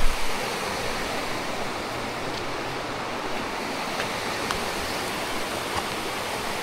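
Mountain creek water on a day hike in Mount Robson Provincial Park rushes in a loud, steady, close broadband roar that stays unbroken throughout, with no voices.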